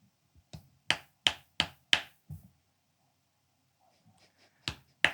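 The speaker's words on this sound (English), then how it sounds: "It sounds like a very dry ass clapping" Dry, sharp claps on bare skin, a run of five or six crisp slaps in quick succession, a pause with faint shuffling, then two more, close and distinct.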